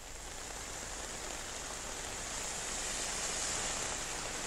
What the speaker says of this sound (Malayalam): അല്പസമയത്തിന് മുൻപ് തുടങ്ങിയ മഴ ഇപ്പോൾ തോരാതെ തന്നെ പെയ്തുകൊണ്ടിരിക്കുകയാണ്